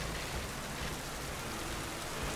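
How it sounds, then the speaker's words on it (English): Rain falling in the video game Pokemon Sword, a dense, even hiss of steady downpour that fills the whole stretch without a break and with no voices. "It's kinda raining"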